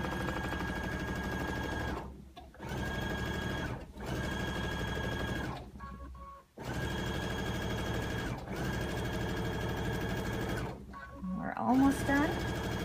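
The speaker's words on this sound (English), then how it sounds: "I'm going to sew the rest of this binding on." A sewing machine stitches binding onto a quilt, running in long steady bursts of rapid needle chatter with brief pauses between runs, loud and close.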